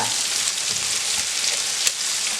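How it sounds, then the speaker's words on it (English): Sausage sizzling and frying steadily in a pan, a continuous close, bright crackle with a few sharper pops, no voices. "And I'm going to let that fry."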